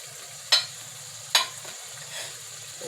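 Minced meat and yogurt fry in a pan with a soft, low sizzle, broken by two sharp scrapes of stirring and a fainter third one.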